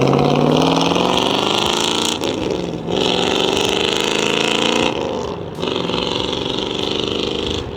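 A 1965 Ford Mustang drives past revving hard, its loud engine note climbing through gears with brief dips at each shift, close and continuous throughout.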